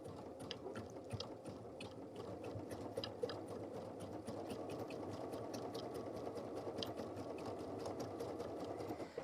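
A Bobbinworks-equipped sewing machine runs slowly and steadily while forming stitches, its rapid mechanical chatter faint and continuous, with slight catches as the thread gets stuck.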